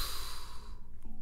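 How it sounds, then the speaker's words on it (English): One deep, slow breath is drawn in through the nose and mouth, heard close up as a soft, airy rush with no speech. "So let's empty our lungs and get this breath in."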